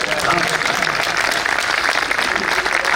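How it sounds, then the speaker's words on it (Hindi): Audience applause at a Hindi comedy poetry show, a dense, steady wash of clapping lasting the whole stretch, loud and continuous with no gaps. "तालियां उठाइए एक बार।"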